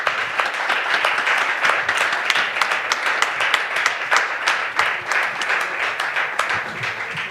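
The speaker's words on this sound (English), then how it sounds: "Please, your applause." A conference audience applauds a panel, with steady dense clapping throughout, moderately loud with crisp individual claps standing out, and no speech over it.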